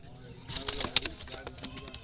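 Young Jalali pigeons flap their wings in two quick, fairly faint bursts of fluttering, the first a few rapid beats and the second shorter, in an otherwise quiet space.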